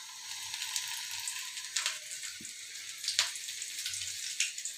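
Food frying one piece at a time in hot oil makes a soft, steady crackling hiss, with a few brief clinks and splashy bursts, close but quiet.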